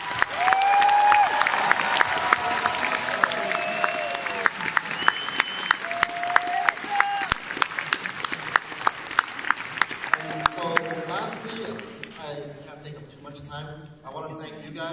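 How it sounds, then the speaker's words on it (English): Convention audience at an anime event closing ceremony applauding guests, dense clapping with occasional sharp claps close by, tapering off near the end as a voice begins speaking over the fading applause. "Let's give them a round of applause."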